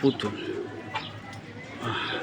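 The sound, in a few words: Giribaz pigeons, a pair released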